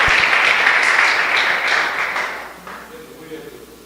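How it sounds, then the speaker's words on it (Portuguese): Church congregation applauding, a dense burst of loud clapping that starts strong and gradually fades away over a few seconds, with a voice faintly present. "Dê uma linda salva de palmas."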